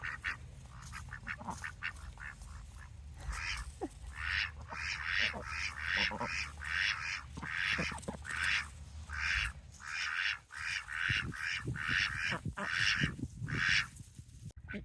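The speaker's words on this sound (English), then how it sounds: "These ducks are wanting to hang out right here, so hopefully you can still hear me." Ducks quack repeatedly and loudly close by, their calls coming in irregular bursts that overlap at times.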